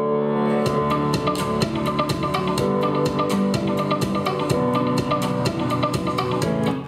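Background music plays back inside video editing software, a steady full-band track with a regular beat and sustained tones running loud and continuous throughout, with no voices over it.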